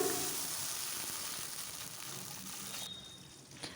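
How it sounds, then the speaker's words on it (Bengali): Radhuni seeds and water hit hot oil left over from frying fish, raising a loud, steady hiss that gradually fades. No voices are heard. "এখন আমি রাঁধুনি ফোড়ন দিয়ে দিচ্ছি মাছ ভাজা তেলেই আর আমি জল দিয়ে দিচ্ছি পরিমাণ মতন"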